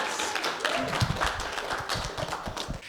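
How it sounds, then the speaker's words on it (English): An audience at a live queer comedy and drag show in Chicago claps in a loose patter of hands, moderately close and fairly quiet. "give a round of applause for yourself"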